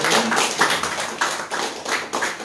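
Dense, close clapping from an audience at a film festival screening and debate, swelling in regular pulses roughly every half second without any talk.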